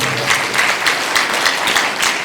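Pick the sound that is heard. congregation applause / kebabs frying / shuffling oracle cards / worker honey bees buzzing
congregation applause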